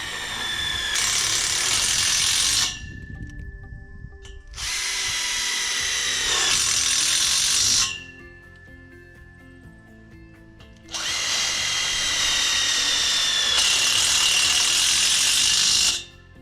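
A power drill whines in three bursts of several seconds each, driving screws into the wooden frame for a greenhouse exhaust fan, loud and close with quiet pauses between.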